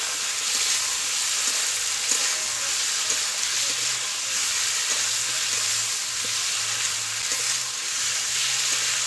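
Spice paste for a vegetarian potol (pointed gourd) curry sizzles steadily in hot oil, with a constant loud frying hiss and faint scraping of a spatula as it is stirred, no voices.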